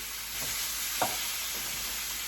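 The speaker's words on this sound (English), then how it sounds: "You can hear that sizzle." Chicken pieces sizzle steadily in a hot pan under a grill press, a constant close hiss with a couple of soft scrapes or taps, no talking.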